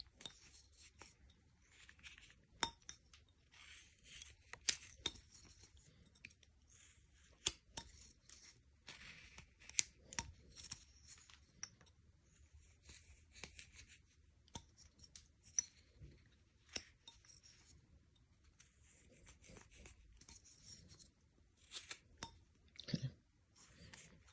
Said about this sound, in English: I'm actually going to take a chunk out of the end part here, right here, at the base, just a little V cut out of the base